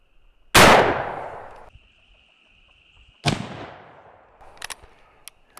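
A 38-55 WCF rifle fires a 250 grain jacketed bullet cast from a 5.56 cartridge: a loud, sharp near report that rings out over a second, then a second shot a few seconds later followed by faint clicks.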